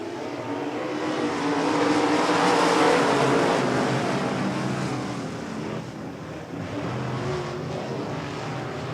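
A pack of race cars roars off at the green flag at Devil's Bowl Speedway, a dense, loud engine wash that swells to a peak and then eases slightly as the field moves away.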